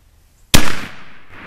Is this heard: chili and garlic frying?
no